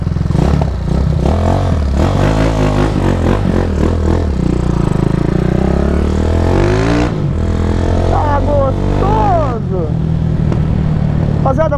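A 150 Sport motorcycle fitted with a 280cc engine rides along, its engine revving up and dropping between gear shifts, loud and close throughout with some rattling clatter.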